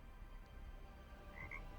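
A frog gives a short croak, quiet and close, set against a faint low background hum, with no talking over it.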